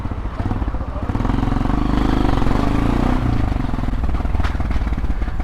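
A Hero Xpulse motorcycle ridden off-road: a loud, close, continuous engine drone with a steady throb and slight rise and fall in pitch, over clattering and wind, with no talking.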